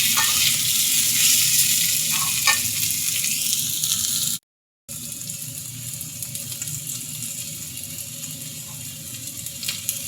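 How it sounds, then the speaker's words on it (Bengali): Chopped potato frying in a pan for an okra, potato and mushroom bhaji: a continuous close, crackling sizzle, broken by a short silent gap midway before the hiss resumes. "তো আমি এখানে আলু কুচিটা আগে ভাজি করে নেব।"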